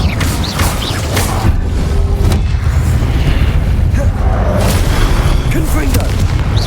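Incendio fire spell cast in the Hogwarts Legacy video game: a loud, dense rumbling burst of flame and booming combat effects that stays heavy throughout, with speech-like voices mixed into the game noise.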